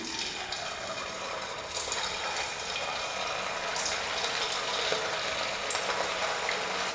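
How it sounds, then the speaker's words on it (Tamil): Rava and potato snacks frying in hot oil, a steady, soft sizzling hiss that stays even throughout, with faint bubbling and a few light clinks of utensils. "எண்ணெய் நல்லா காஞ்சதுக்கப்புறமா நம்ம எடுத்து போட்டு பொரிச்சிடலாம்"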